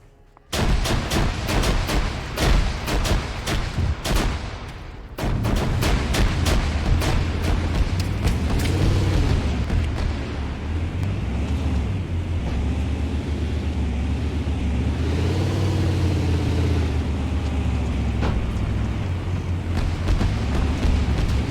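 Artillery fire support strikes in Arma 3 hit in quick repeated blasts at the start, followed by a sustained heavy roar with aircraft-like rumbling, loud throughout and with no talk.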